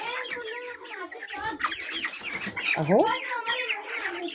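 Several farm chickens cluck close by in a shed during rainy weather, with irregular overlapping clucks and calls. A person speaks briefly amid the birds.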